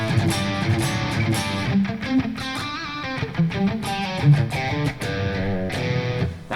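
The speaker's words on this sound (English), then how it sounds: "Dynamic Drive, I guess." Electric guitar played through the Dynamic Drive setting of a Flatsons KMF-1 budget multi-effect pedal, a steady run of overdriven chords and notes with sustained harmonics, played alone at fairly constant loudness.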